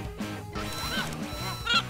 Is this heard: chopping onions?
no